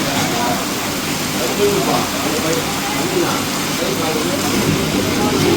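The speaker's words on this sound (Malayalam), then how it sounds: "അപ്പോൾ ഇവിടെ മഴയാണ്" Steady rain hisses and patters continuously near a church in Acharapakkam, filling the background at a fairly loud, even level with no pauses.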